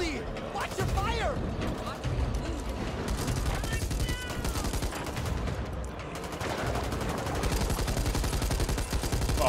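Rapid gunfire from the Back 4 Blood co-op shooter, dense and continuous bursts layered with game effects, running under excited players' voices throughout.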